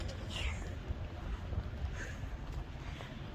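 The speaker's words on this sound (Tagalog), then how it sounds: "Lakas pa ng hangin." Strong, freezing-cold wind buffets the microphone with a steady low roar, and faint rising whistles sweep through it twice.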